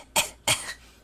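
A voice imitates a dry cough with two short, harsh bursts close to the mic, separated by a brief pause.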